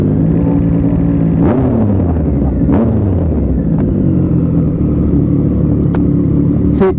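A Triumph Street Triple 765 RS motorcycle ridden in sport mode: a loud, continuous engine drone heard up close, with pitch sweeps as the revs rise and fall between gears.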